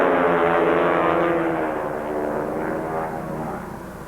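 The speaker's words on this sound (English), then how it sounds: "The airplane's making a tight turn in diamond formation" Several airshow planes fly overhead in tight diamond formation, a loud, steady propeller-engine drone that fades slightly over a few seconds.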